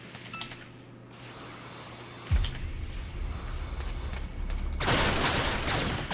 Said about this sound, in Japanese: なんか爆発してるぞ。